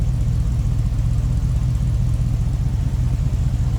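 A 1934 Plymouth Coupe street rod with a true dual exhaust and no catalytic converters idles with a deep, steady, throbbing rumble, close and loud throughout.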